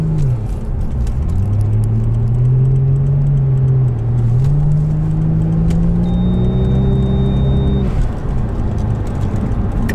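A Toyota Aristo sedan's 2JZ-GTE engine hums and revs through a slow St. Petersburg traffic jam, its pitch rising and falling with gear changes, steady and close, with a brief faint electronic tone.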